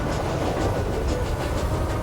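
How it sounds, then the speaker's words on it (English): A mail train rolls along the rails in a steady, dense rumble, with faint rhythmic clickety-clack of the wheels running beneath the continuous noise. "you can still hear the faraway call of an engine's whistle and the clickety-clack of train wheels"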